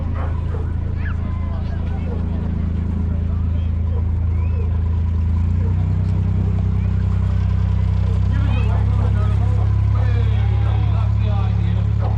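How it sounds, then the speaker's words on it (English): Canal boat engines drone steadily at close range as boats move through a lock at a canal festival, with faint birds and distant voices over the rumble. "watched the boats go up and down the lock for hours"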